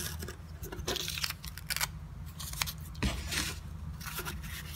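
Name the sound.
homemade craft knife with twig handle cutting through paper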